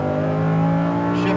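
Lamborghini Huracan engine held at full throttle on a racetrack, a loud, steady high-pitched wail with strong harmonics that builds slightly toward the end, heard up close with no talking.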